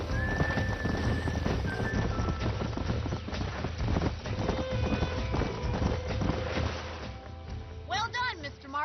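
Horses' hooves clatter in a quick gallop with sharp whinnies near the end, amid busy background noise and talking, in the video game Red Dead Redemption.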